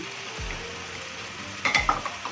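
Fresh coconut milk poured into chicken curry cooking in a pan, a soft splash and stir over a constant sizzling bubble, followed by a few clinks of a utensil near the end.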